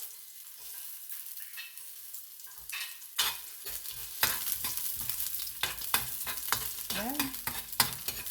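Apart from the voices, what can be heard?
garlic sautéing in a pan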